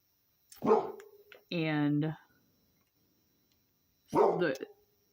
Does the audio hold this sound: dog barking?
yes